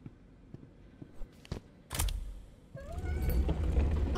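A cat in a puzzle video game meows a couple of times over a low rumbling background, after a few soft taps and a sharp clattering burst.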